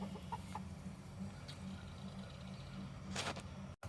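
A hen sitting on a nest gives low, soft clucks over a steady murmuring hum, with a few brief sharper calls nearby.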